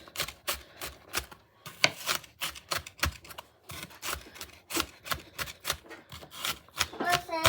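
A knife chops food for Bolognese on a cutting board in quick, uneven bursts of sharp taps, fairly close, with brief pauses between runs.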